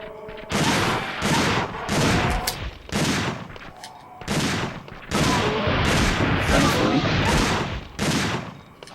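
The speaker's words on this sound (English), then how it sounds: "Shotgun has a nice spread." Shotgun blasts in the video game Dino Crisis 2, a series of loud, booming shots in quick clusters with short pauses between, each blast ringing out before the next.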